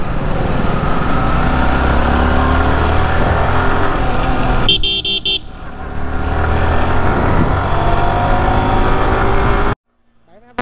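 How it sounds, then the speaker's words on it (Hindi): A car with a loud aftermarket exhaust passes close by on a road as a steady engine roar, briefly broken by a horn-like toot midway, before cutting off near the end; a voice speaks over it. "कार के अंदर एग्जॉस्ट लगा रखा है बताओ, अच्छी है कार।"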